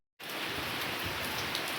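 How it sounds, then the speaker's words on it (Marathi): Light drizzling rain falls steadily outdoors, a soft, even hiss that starts abruptly and continues unbroken, with no voices. "पाऊस आज दिवसभर हे असंच चालणार आहे रिमझिम लाईट आहे"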